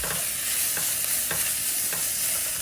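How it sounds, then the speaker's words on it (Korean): Button mushrooms and garlic stir-fried in an oiled pan, a steady hiss of frying under repeated scraping strokes of a utensil at a regular pace, close and fairly loud throughout. "마늘이 노릇해지면 양송이 버섯을 넣고 볶아줍니다."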